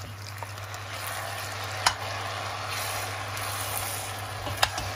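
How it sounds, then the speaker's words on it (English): Savoury rice cooks in a pan as stock is poured in, giving a steady low sizzling bubble with a constant background hum and a couple of sharp clinks, no voices. "Okay, so I'm going to add my stock."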